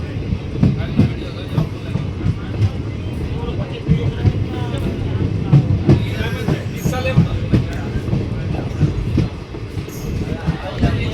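A train pulls into Shital railway station in the early morning, its wheels clattering steadily over the rails with a continuous loud rumble from inside the carriage. People are talking beneath the noise.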